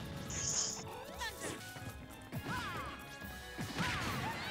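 Smash attack landing in Super Smash Bros, played as Game & Watch: a few sharp, crunchy impact hits with whooshing swings, quite faint and set amid game effects and chatter.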